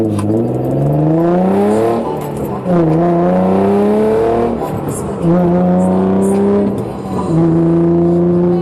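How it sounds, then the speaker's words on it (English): A Motordyne exhaust on an Infiniti G35 rises and falls through repeated loud acceleration runs, the engine note sweeping upward with brief dips between gear changes, close and continuous for about nine seconds. "His exhaust has absolutely no drone at all."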